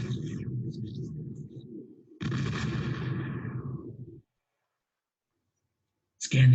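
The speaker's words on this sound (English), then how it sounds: "Targeting acquired and firing." Starship weapons firing at an ion cannon: two heavy, rumbling blasts with a trailing echo, cut off by silence, then a new loud sound at the very end.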